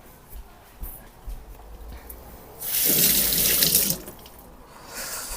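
Tap water runs over a freshly picked green apple being washed, a steady faucet burst of about a second that swells and then stops, preceded by quiet handling noises.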